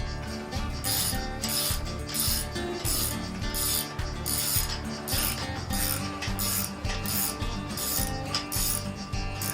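A ratchet clicks in quick repeated bursts, loud and close, while screws are tightened on the fork of a Yamaha YZ125 motocross bike, with no talking.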